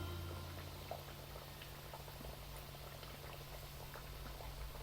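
Chicken nuggets made from ground chicken paste fry gently in oil over a low flame, a soft steady sizzle and bubbling with faint crackles, close but quiet, without talk.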